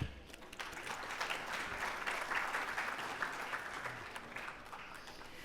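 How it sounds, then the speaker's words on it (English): A summit audience applauds its speakers and delegates at the Future Summit's 8th edition, a steady wash of clapping that stays fairly quiet and even throughout, with faint voices mixed in. "let's give a warm round of applause for our incredible speakers and delegates, both local and international"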